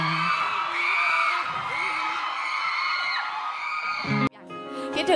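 A live crowd at a Miss Grand International pageant event cheers and whoops loudly and continuously, then the sound cuts off sharply before a brief burst resumes.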